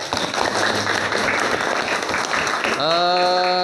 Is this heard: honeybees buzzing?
no